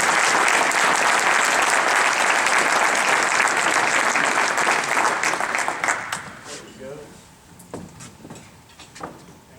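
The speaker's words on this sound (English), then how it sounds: "Please join me in a round of applause for Gerlach." Applause at a business honors luncheon: a full room claps steadily for about six seconds, then it thins to scattered claps and faint voices.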